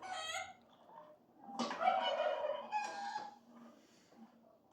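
Backyard chickens cluck and a rooster crows in the evening, fairly near but soft, in a few separate calls with quiet gaps between.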